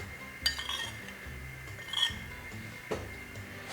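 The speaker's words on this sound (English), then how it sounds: "just add a little bit of cream. And mix it in." A spoon stirs cream into a purple sweet potato soup, giving three sharp metallic clinks against the pot, spaced about a second apart over a quiet background.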